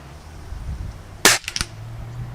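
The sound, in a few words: Gamo Big Cat air rifle shot in the snow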